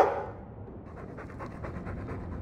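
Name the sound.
Mabari war dog panting in video game Dragon Age 2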